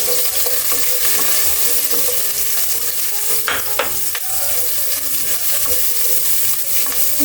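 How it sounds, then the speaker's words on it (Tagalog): Onions sauté in a pan for a homemade tomato-based macaroni sauce, a loud, close, continuous sizzle with a few sharp stirring clatters around the middle, and no talking. "lagay na po natin buyas"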